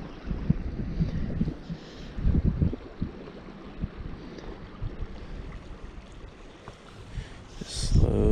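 Steady wind gusting outdoors beside a creek during fly fishing, a continuous low rumbling buffet on the microphone with louder surges, mixed with faint flowing water and no talking.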